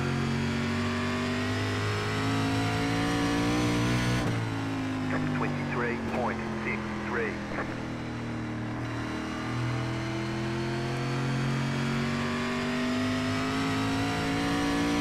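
SRX race car engines in iRacing at Indianapolis Raceway Park drone steadily with shifting pitch as several cars run close together, under continuous commentary.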